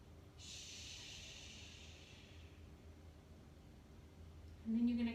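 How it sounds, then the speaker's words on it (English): Slow yoga breathing in through the nose, a long soft airy inhale that fades after a couple of seconds, then a brief louder tonal sound at the end, quiet and close. "breathing in through your nose"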